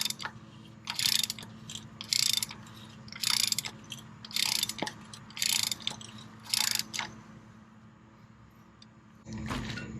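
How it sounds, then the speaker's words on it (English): A wrench tightens the oil filter on a 2013-2018 fourth-generation Toyota RAV4, making close, loud ratcheting bursts in short clicking runs separated by pauses. "we're going to tighten her down with a wrench."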